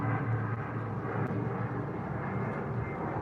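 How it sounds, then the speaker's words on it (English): Airplane flying overhead outdoors, a steady low droning engine rumble, moderately distant and unbroken, with no talking. "Wow, I hear a plane."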